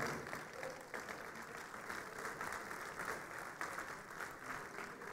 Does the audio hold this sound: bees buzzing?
no